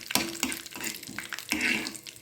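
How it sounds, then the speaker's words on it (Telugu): Tempering of chana dal, cumin, mustard seeds and urad dal crackles and sizzles in hot oil for a mango pachadi, with stirring scrapes and bursts of spluttering at close range. "ఇదిగోండి, తాలింపు వేస్తున్నాను."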